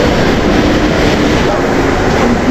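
The Cox's Bazar Express stands at platform 3 of Dhaka station, with a steady loud rumbling hum of train and station noise throughout.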